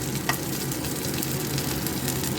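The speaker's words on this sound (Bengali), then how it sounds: "অতিরিক্ত ডোবা তেলে করি না, কিন্তু ভেতরটা মুচমুচে একদম দারুণ" Ridge gourd and shrimp shallow-fry in oil in a pan, producing a steady crackling sizzle throughout with a small pop near the start, with no talking.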